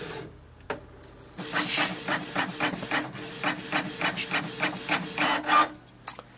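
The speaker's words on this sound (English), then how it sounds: "we can see here like it's printing as well" A Canon PIXMA TS3300 inkjet printer runs a Windows test page, giving a steady series of rhythmic mechanical rasps and clicks as the print head shuttles back and forth, close and moderately loud with no talking.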